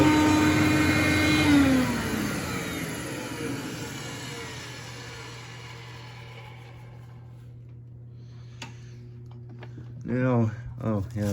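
Hoover Conquest vacuum cleaner running loud with a whining motor, then spinning down into a fading hum, after which a person starts talking.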